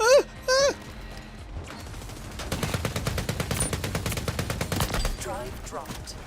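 Gunfire rings out in the video game Empulse, arena shooter combat. Rapid automatic shots rattle in a steady burst across the middle of the clip, mixed with game sound effects and short electronic blips.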